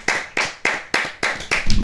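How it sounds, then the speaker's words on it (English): A few people clapping in a podcast room: six or so distinct, sharp claps in a loose rhythm, close and fairly loud, with a brief rustle at the end. "Clap it up"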